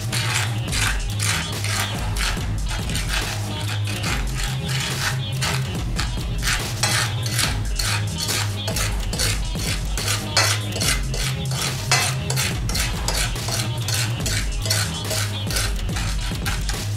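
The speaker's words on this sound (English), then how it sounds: "Take our fork and just mix this in together" A fork clinks and scrapes steadily against a bowl while mixing a dry, sandy coating mix for lemon dill scallops, with a rapid metallic clatter continuing for the whole stretch, close and fairly loud, with no talking.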